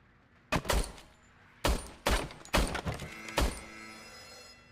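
Four sharp, punchy shots from a service pistol in the video game RoboCop: Rogue City, spaced about a second apart, each with a short ringing tail, loud and close with no talking.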